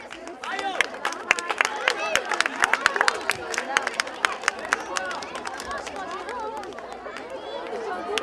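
A crowd applauds and cheers a dance group performing a suite of Karin ethnographic dances at a festive outdoor event, sharp claps rising to dense bursts, then thinning, with chatter mixed through.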